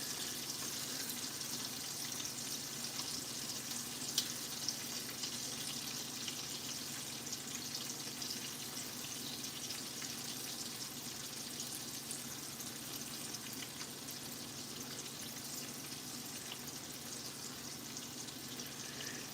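Steak frying in a pan, basted with hot butter and rosemary, giving a steady, even hiss and crackle that holds without pause throughout, moderately quiet and unaccompanied by voices.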